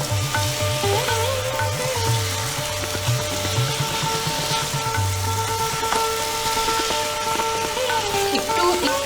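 Mutton curry with fried potatoes sizzling in a hot pan as it is stirred, with continuous frying crackle, scraping strokes of a spoon and a steady background hum, fairly close.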